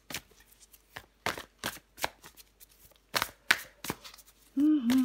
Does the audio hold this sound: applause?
no